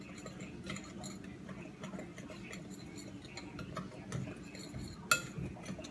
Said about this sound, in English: And then I'm going to mix it together.